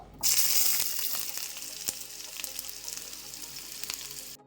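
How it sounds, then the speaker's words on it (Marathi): Onion hitting hot oil in a heated kadai bursts into a loud, steady sizzle that settles into continuous frying, with a few soft clicks of the pan underneath. "आता याच्यात मी कांदा टाकून घेतो।"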